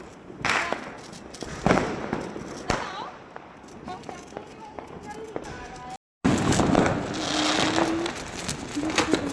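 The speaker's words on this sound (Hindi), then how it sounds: "शोभित भैया को पटाखे जलाना बहुत ज़्यादा पसंद है" Diwali firecrackers burst on a rooftop in a string of sharp cracks and bangs, some loud and close, others lighter pops, with a brief gap before a denser noisy stretch.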